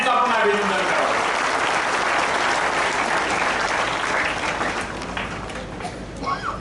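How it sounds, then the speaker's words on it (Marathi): Loud, dense crowd applause at a political gathering in Ichalkaranji, congratulating Dhairyasheel Mane, sustained for several seconds before thinning out toward the end, with a voice briefly heard near the close. "टाळ्या वाजवून एकदा धैर्यशील मानेच आपण अभिनंदन करावं"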